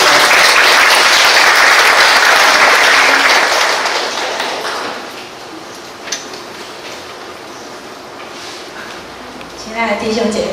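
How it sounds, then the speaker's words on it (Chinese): A church congregation claps to welcome a pastor to the pulpit. The applause is loud and dense for several seconds, then thins and fades as a voice begins speaking. "我们用拍手来欢迎"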